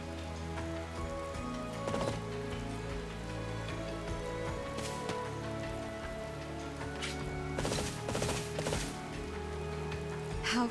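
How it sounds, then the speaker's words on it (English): Steady rain patters on surfaces in the video game Fire Emblem: Three Houses, a soft, continuous hiss with scattered drips and a few heavier knocks, accompanied by faint sustained background tones. "This rain. It is the lamentation of my mother."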